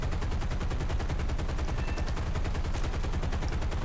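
Rapid, continuous automatic gunfire in a steady rattling rhythm, loud and unbroken throughout, like B-17 bomber guns firing in the video game War Thunder.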